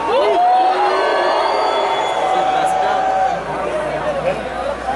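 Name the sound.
festival crowd at Gathering of the Juggalos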